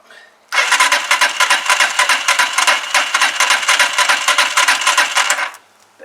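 A Huoniao HN125 motorcycle with no ignition lights is cranked on choke, giving a loud, steady rapid mechanical churning for about five seconds before cutting off, with no clear catch.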